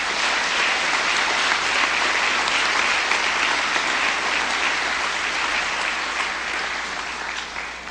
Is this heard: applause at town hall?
yes